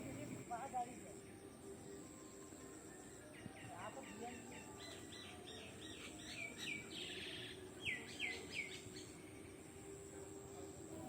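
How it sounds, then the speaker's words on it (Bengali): Small birds chirp and tweet among the trees around a village, with quick bursts of faint, fairly distant calls over a soft outdoor background. The calls grow busier in the middle stretch. "গ্রামে চারিপাশে এত গাছপালা থাকে যে সারা দিন পাখির কিচিরমিচির আওয়াজ তো পাওয়াই যায়"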